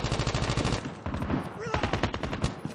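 Rapid automatic gunfire in a Call of Duty battle royale match, dense loud bursts of shots rattling continuously with brief gaps, close and punchy throughout.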